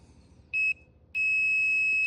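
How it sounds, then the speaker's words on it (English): A short electronic beep from a multimeter continuity check, then a brief pause before a second steady tone that holds on, clear and close. "you should have a steady beep for continuity"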